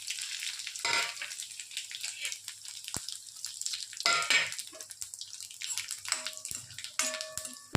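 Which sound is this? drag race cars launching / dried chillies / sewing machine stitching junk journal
dried chillies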